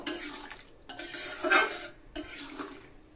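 A spoon scrapes and stirs soybeans in a metal pot after milk goes in, three close, fairly loud bursts of stirring separated by brief pauses.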